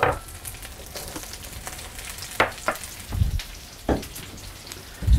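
Larger vegetables go into a hot pan for pork chow mein and start sizzling, a crackling fry broken by several louder bursts and clatters as they land and get stirred.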